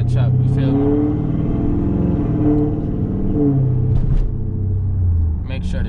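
A car cruising slowly through a city neighborhood at night gives a steady low engine rumble with gentle revs throughout, while someone talks over it.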